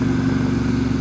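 A Ducati XDiavel cruiser motorcycle's engine runs on cruise control at a constant throttle, a loud, steady low hum with no talking.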